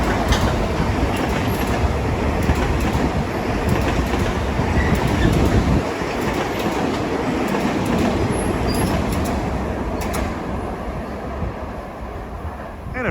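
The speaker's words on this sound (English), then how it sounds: "that was a Huntington-bound train passing under the Lefferts Boulevard Bridge" A Huntington-bound Long Island Rail Road M9 train rumbles steadily under the Lefferts Boulevard Bridge in Kew Gardens, a loud continuous roar of wheels on rail that fades slightly at the end.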